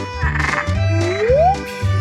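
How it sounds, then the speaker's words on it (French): A frog croaks in a cartoonish cooking challenge scene, loud and close, with low pulsing croaks interrupted by a rising whistled tone, no speech. "J'ai peur des grenouilles."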